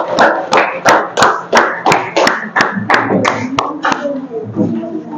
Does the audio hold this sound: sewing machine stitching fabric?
no